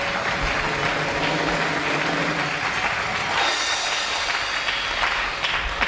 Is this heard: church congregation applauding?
yes